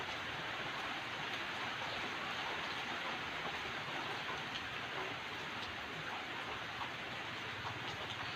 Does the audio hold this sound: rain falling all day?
yes